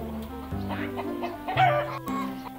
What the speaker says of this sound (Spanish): La gallina naranja pone delante de toda la granja.